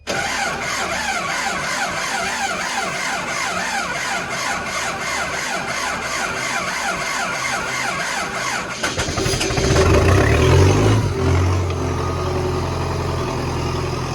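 An engine cranks with a rhythmic, laboring churn for several seconds, then catches and settles into a louder, steady idle with a low throbbing rumble, heard up close outdoors at a small worksite.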